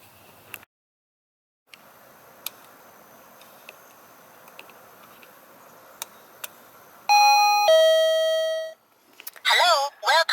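Electronic welcome chime for deterring bears, played indoors at low volume: a quiet hum with scattered clicks, then a brief bright two-tone chime followed by a short electronic voice greeting.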